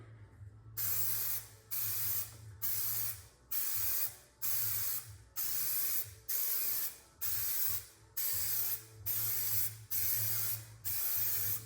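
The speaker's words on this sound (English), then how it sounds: "spraying this light primer" Short bursts of hissing spray primer from a spray can repeat in a steady rhythm, about a dozen pulses each lasting under a second, close and clear with brief pauses between, coating a 1979 GMC dually truck bed.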